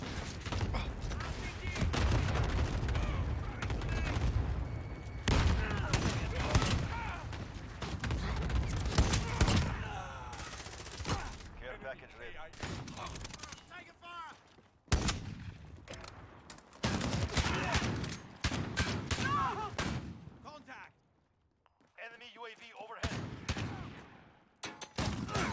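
Rapid gunfire bursts from the Call of Duty: Vanguard / Modern Warfare first-person shooter, dense and repeated over about half a minute with a few brief lulls, under and between excited in-game combat noise.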